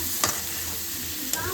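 Masala powders frying in a pan hiss steadily and close, broken by two sharp scrapes of a spatula being stirred through, and no voices are heard.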